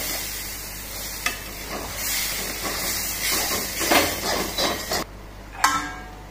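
Water poured into roasted semolina for upma sizzles and hisses in the pan while it is stirred, a steady frying rush with scraping strokes and a few sharp clinks, close and fairly loud, no talking.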